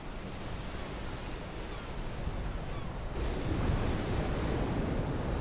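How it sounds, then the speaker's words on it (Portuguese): Ocean waves break and wash on a rocky shore along the southern tip of Africa, a broad continuous roar of surf that grows heavier as a bigger wave crashes partway through. "Basta que uma onda atinja a orla e o leito inteiro será inundado."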